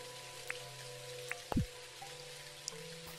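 Light rain in the farming video game Dinkum, a soft steady patter with a few scattered drop taps and a low background hum, heard alone without talking.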